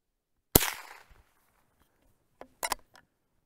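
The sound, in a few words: Cooey Model 39 single shot .22 rifle shots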